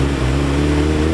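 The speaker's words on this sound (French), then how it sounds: "c'est le bouton simplement pour démarrer la moto." WSSP racing motorcycle engine running after starting, a loud close steady idle with a deep even rumble and no speech.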